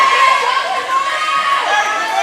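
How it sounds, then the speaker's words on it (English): A swim meet crowd cheers and shouts for the racers, a loud, steady wash of many voices with high-pitched yells rising above it throughout the brief moment. "A lot of good sportsmanship and cheering for the Pemberton swimmers here."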